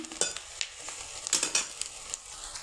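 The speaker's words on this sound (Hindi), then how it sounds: "पियाज पके दीजिए।" Chopped onions frying in a pan for Odia mutton kasha: a steady close sizzle and hiss broken by small crackles and the occasional scrape, with no voices.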